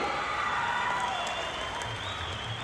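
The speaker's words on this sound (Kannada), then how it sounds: "ಜೋರಾದ ಚಪ್ಪಾಳೆ ಬರಲಿ." An audience applauds at a birthday tribute during a medical college opening, a steady wash of clapping held throughout at moderate distance, with faint crowd murmur beneath.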